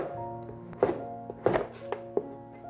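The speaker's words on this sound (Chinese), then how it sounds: "把南瓜切片" A knife slices through pumpkin on a cutting board, giving four or five distinct close thunks at uneven intervals over a quiet background.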